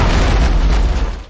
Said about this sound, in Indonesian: Di dalam benteng, Orosia dan Nimaime terkena serangan meriam.